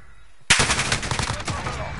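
Sudden burst of rapid automatic gunfire in a front-line shooter video game, erupting after a short quiet moment and rattling on in close, loud, uneven volleys.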